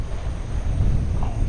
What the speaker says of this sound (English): I didn't know it was going to be this windy this morning